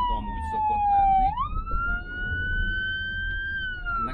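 A Kia Sportage emergency vehicle's siren sounds loud and close, louder than usual, its tone sweeping down and then climbing into a long high wail over low road rumble, with no talk.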